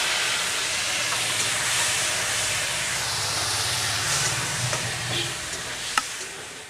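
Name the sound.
paneer frying in white oil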